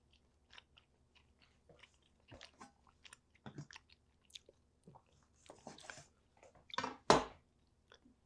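Close chewing of a bite of cooked chuck steak, with soft, wet, irregular chomps that grow louder toward a final crunchy bite.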